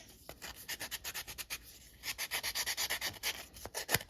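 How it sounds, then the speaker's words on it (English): A chipboard charm corner is sanded by hand in quick, steady rubbing strokes, a close, dry scratching rhythm that speeds up and grows louder partway through, with no talking. "I'm sanding that corner down just because I think it'll look good."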